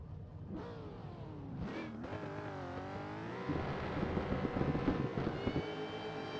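Drift cars at a Round 1 qualifying battle at Anglesey, with a Toyota Supra chasing the lead car: engines rev and climb in pitch over one another, growing louder toward the end, with no talk.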